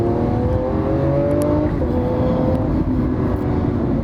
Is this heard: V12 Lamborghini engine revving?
yes